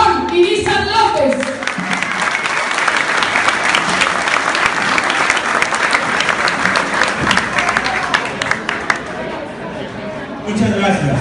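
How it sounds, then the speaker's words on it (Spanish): A large political rally crowd in Guasave gives a loud, sustained round of applause for a senator of the Republic, steady dense clapping with some chatter and shouts, lasting about eleven seconds. "le damos un fuerte aplauso al senador de la República, Aarón Irízar López."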